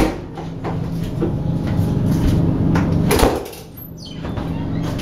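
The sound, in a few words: bathroom doors opening and slamming on a train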